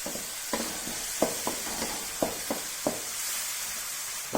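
Garlic fries in a pan for snail sukka, a steady hiss of sizzling oil with repeated sharp scrapes and taps of a spatula, close up and with no talk.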